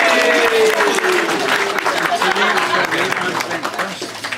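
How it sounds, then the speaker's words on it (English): Guests at a wedding reception clap in a loud, close round of applause, with voices and chatter overlapping the steady patter of hands. "Could we have a round of applause,"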